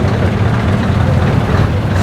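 A Scania 144 truck at a custom truck show in Ireland runs with a loud, deep, steady engine rumble and throaty exhaust, close by and unbroken throughout.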